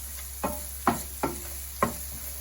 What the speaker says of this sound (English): we're just going to saute this a little bit around for a minute